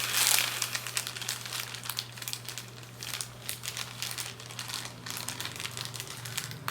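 Playing cards are pulled from a deck, a close, soft crinkling and papery shuffling that rustles on and off for several seconds with no voice.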